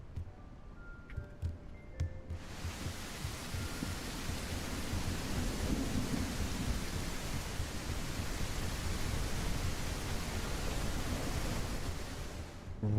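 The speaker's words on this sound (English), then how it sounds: "Rainy day." Steady rain hiss with low thunder rumble swells in a Morrowind game mod, a dense constant wash of noise that builds slightly toward the middle and holds, with no voices.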